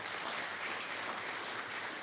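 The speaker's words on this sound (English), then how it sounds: "Clap for your parents." An audience at the DC Touchdown Club award event applauds for parents, a faint, distant, continuous wash of clapping from a large room, with no speech heard.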